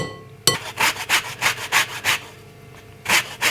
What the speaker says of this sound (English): and then just grating the rind from some lemon